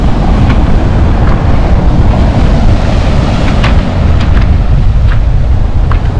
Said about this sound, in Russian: Ветер ну очень сильный.